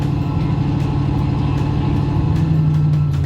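A 1968 Ford Mustang California Special engine runs with a loud, steady, deep rumble close by, a throaty low drone that holds even with no break.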